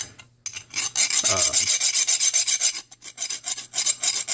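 Metal ratchet part rubbed back and forth on a sharpening stone, a steady rasping scrape repeated in even strokes, close and clear with no talking.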